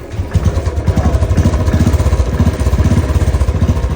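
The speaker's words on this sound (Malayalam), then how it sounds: "ഭാഗ്യത്തിന് ബൈക്ക് സ്റ്റാർട്ടായിട്ടുണ്ട്." A motorcycle engine fired up after a battery replacement runs at a fast, even, chugging idle, close and loud, with a steady throbbing pulse and light mechanical clatter throughout.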